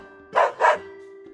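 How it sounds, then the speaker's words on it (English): A dog in the Metal Slug Awakening video game gives two quick sharp barks, loud and close, over a steady synthetic hum from the game. "My, what a spirited dog!"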